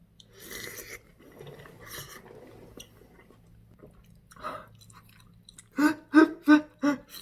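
Eating homemade tteokguk, a rice cake soup with egg and seaweed: soft clicking and mouth noises give way to four loud, evenly spaced chewing bites near the end, close to the microphone.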